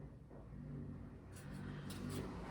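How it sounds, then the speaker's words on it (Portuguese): Cars pass along the street outside an art studio, a low steady engine rumble that stays faint and distant throughout, with a few brief high squeaks near the end and no talking. "Aqui passa bastante carro e é na frente agora meu ateliê"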